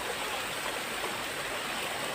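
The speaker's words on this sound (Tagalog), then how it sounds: "May ilog dito, oh." River water flowing steadily through the countryside, a continuous broadband rush that stays even and close throughout with no voices over it.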